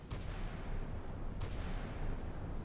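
Naval gunfire in the naval combat game Sea Power, a rumbling barrage of distant booms and a few sharper cracks over a constant low roar, with no voices.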